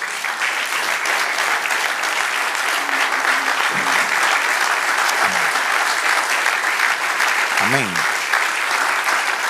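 Sustained applause from a church congregation fills the space, steady and dense throughout, while a voice calls out a few short words over it.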